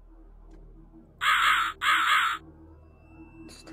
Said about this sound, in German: Rabe, ja